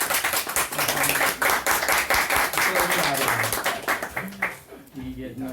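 Audience applause for a book's author at a talk, dense clapping throughout the room, blended with a voice speaking over it, thinning toward the end.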